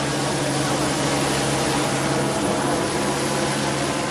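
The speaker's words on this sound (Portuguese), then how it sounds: "Rodrigo solicitou o apoio de 2 helicópteros equipados com metralhadoras" A helicopter's rotor and engine roar loudly and continuously, a steady dense wash of noise with no voices.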